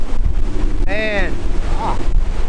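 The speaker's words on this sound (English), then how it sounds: "Windy day, man. I didn't think the wind was gonna affect me the way it did." Steady wind buffets the microphone on Lake Toho during a Major League Fishing tournament, a constant low rumble with a brief voice-like tone rising out of it partway through.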